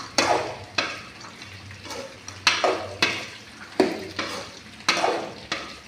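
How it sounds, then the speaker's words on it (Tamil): Finely chopped vegetables sizzle in a hot pan while a spoon stirs them in repeated scraping strokes, roughly one each second, close up and with no talking. "அடுத்ததாக காயெல்லாம் கொட்டிக்கலாம்ப்பா"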